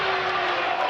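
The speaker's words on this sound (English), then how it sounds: "As you can tell from the faithful crowd what they thought" A basketball crowd at a girls' high school regional final groans and jeers in a dense, loud wash of voices after a foul call.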